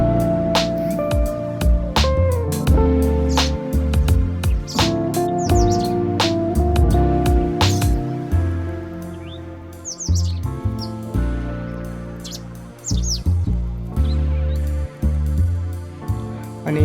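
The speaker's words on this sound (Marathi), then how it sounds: "तर तुम्ही आता इकडे पुढे चिमण्याचा आवाज ऐकू शकता." Sparrows chirp in quick, bright bursts near a temple in Baner, Pune, the calls overlapping and fairly close, with a low steady tonal hum beneath them throughout.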